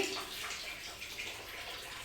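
Water flowing from a tap pipe and falling from above, a faint, steady, even rush with no talking.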